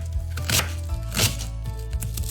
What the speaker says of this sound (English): Next up is chopping the cabbage.